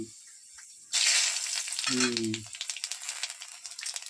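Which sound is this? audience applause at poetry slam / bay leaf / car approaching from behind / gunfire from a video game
bay leaf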